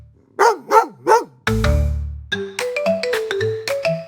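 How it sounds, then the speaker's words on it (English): Three quick dog barks, then a short bright electronic jingle plays. "It's a dog. Woof, woof,"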